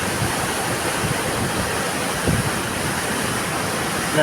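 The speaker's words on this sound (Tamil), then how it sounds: "இதுதான் வருது காட்டாற்று வெள்ளம்" Flash-flood torrent of a river rushing past, a steady dense roar of water at moderate level, continuous and unbroken, with no voices.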